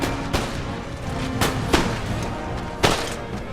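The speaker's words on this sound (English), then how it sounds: "I'm now firing down into their ranks" Musket volleys in Empire: Total War fire down into enemy ranks, heard as several sharp cracks and booms spaced irregularly over a continuous rumble of distant battle, with no talk.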